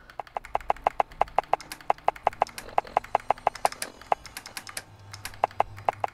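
Crisp, evenly spaced menu clicks from a Fallout 4 interface sound mod repeat rapidly and loudly, like fast tapping on keys, with no talking over them.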